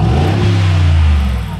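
A Mercedes G63 V8 engine revving, a loud, steady low rumble that holds close and even for a moment before easing slightly at the end.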